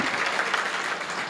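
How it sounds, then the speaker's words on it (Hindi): Steady audience applause fills a Hindi poetry recital hall, a dense even patter of many clapping hands with no voices on top, continuous from start to finish. "एक बार ताली बजा दीजिए"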